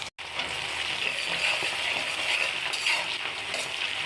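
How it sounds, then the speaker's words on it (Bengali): Raw rice, cumin seeds, bay leaf and chopped ginger temper in hot oil for khichuri, making a loud, continuous sizzle broken by scraping stirs and light metallic clinks. "চাল, কাঁচা চাল, জিরে, তেজপাতা, আদা কুচি দিয়ে ফোড়ন দিচ্ছি।"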